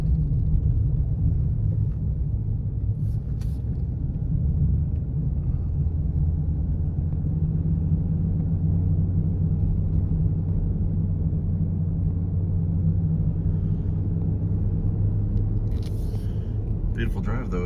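Car cruising along the Highway 187 loop past a lake, a steady low engine and road rumble inside the cabin running continuously, with people chatting over it.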